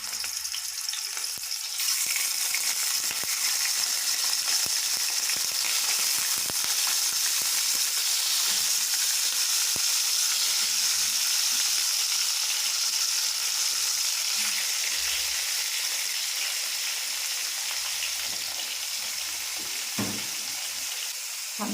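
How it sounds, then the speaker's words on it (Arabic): Chicken liver and gizzards fry in hot ghee in a pan, giving a steady, dense sizzle with crackling throughout and a few stirring knocks near the end; no one speaks. "هناخد السمنة بتاعتنا نحطها في الطاسة لحد ما تسخن، وبعد كده هنحط فيها ايه الكبد والقوانص عشان نحمرها"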